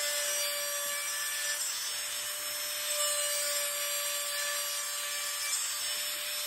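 A micro grinder carving wood on a chickadee's breast feathers gives a steady, faint high-pitched whine with a light grinding rasp, continuous and close, with no talking.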